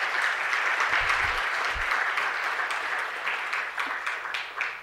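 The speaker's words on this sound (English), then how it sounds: "Colleagues, let us give Prof. Taylor another round of applause." A conference audience gives a sustained round of applause at a School of Arts event, dense steady clapping filling the room for several seconds with a few louder claps near the end.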